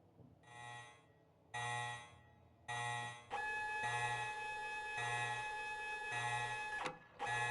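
An alarm rings in the video game Resident Evil Code Veronica, a harsh electronic buzzing tone in repeated bursts that turns into one long continuous blare, then cuts off briefly and resumes.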